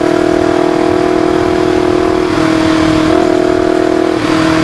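Yamaha R25 motorcycle fitted with an Akrapovic Racing Line exhaust, droning loud and steady at constant revs with slight pitch dips, close to the bike.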